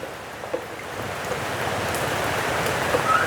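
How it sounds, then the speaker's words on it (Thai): Rain falls steadily outdoors as an even, continuous hiss that swells slightly toward the end, with no voices. "ฝนตก"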